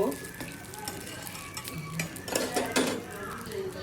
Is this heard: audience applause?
no